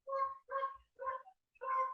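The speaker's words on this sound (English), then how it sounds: "And yes, that's a goose." A goose gives four short, nasal honks in an even, spaced rhythm, fairly faint and heard on its own with no talking.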